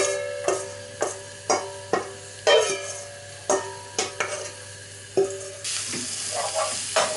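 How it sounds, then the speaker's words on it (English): Onions fry and soften in a pan with a steady low sizzle, punctuated by a regular series of sharp utensil scrapes and taps against the pan, close up, with a brief louder hiss near the end. "we're going to get the onions from earlier and literally just put them in so that you can soften those up"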